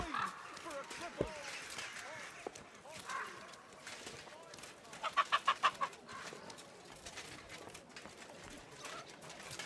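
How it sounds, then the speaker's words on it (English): A chicken clucks in the medieval video game Kingdom Come: Deliverance II, with a quick run of clucks mid-clip among game ambience, footsteps and light background chatter. "Hello, chicken."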